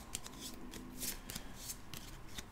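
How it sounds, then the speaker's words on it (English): Game cards from the Llamas with Hats: Hungry for Hands board game are shuffled by hand in a quick run of crisp riffling flutters, close and fairly quiet, with no talking. "And all you're going to do is shuffle them up"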